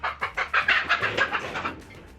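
Chickens at home cluck in a quick run of about ten close, fairly loud bursts. No other sound competes.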